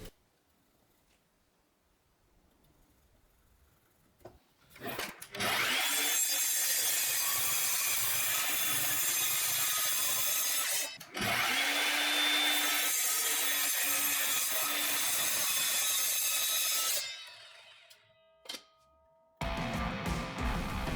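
A hand saw cuts a recycled wooden block, 3.5 by 4.5 by 27 cm, for a mallet handle, giving long steady rasping strokes that run for several seconds, pause, then resume, close up, with quiet gaps and knocks between passes.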